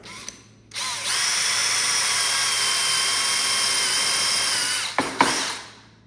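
A countersink drill bores into a wooden wall stud while fastening a horizontal shower-kit frame, a steady high whine running for about four seconds before spinning down, with a brief restart burst near the end.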